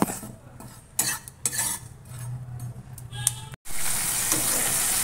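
Spices hitting hot oil in a wok: a sudden loud, steady sizzle and hiss rises after scattered metal clinks and scraping of utensils against cookware, with no talk.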